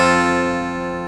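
An acoustic guitar sounds a sustained strummed chord that shifts to a new shape, a fretted chord from a song, ringing close and clear and slowly fading with no talking.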